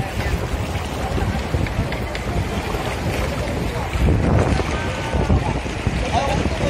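Strong waves at Maragondon churn in a constant, roaring wash, with heavy wind buffeting the microphone and a surge partway through, under intermittent talk.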